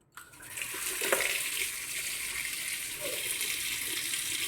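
Tap water runs steadily while food is washed at a kitchen sink, a close, continuous splashing hiss that starts abruptly and carries on alone to the end.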